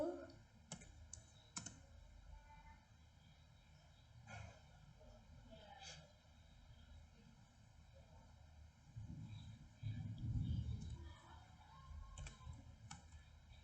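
Computer keyboard keys clicking while commands are typed into a Linux terminal, scattered faint taps over a low room hum, with a voice talking over part of it.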